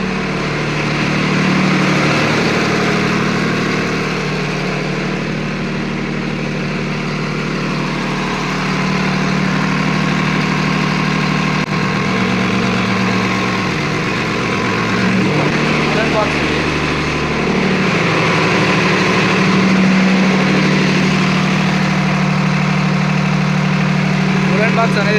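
Kirloskar diesel generator engine running at a steady idle, a loud, continuous low drone with a constant mechanical hum throughout.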